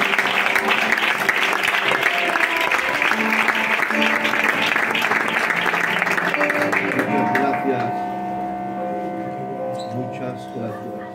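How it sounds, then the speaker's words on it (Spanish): Congregation applause at a revival church service, hearty clapping over background music for about seven seconds, then dying away as sustained instrumental tones continue softly. "¿Puedes dar un aplauso al Señor?"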